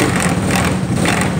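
Small go-kart engine running rough just after a cold start, a loud, close, continuous sputtering drone with uneven chugging throughout.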